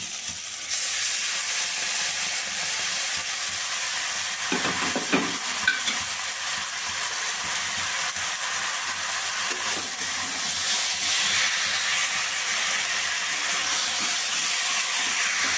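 Chopped tomato and marinated chicken cooking in a hot pan, producing a steady, loud hiss of sizzling that runs unbroken throughout, with a couple of faint stirring knocks early on and no talking.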